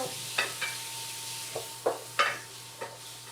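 Flour being stirred in a pan for a Thanksgiving leftovers dish, heard as soft irregular scraping strokes with a faint sizzle, fairly close and alone with no talk.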